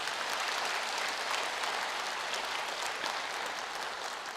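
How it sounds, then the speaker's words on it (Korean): An audience at a 2023 talk show event claps continuously, a dense, even roar of many hands that holds steady at a loud level from start to finish. "격려의 박수를 좀 보내주십시오"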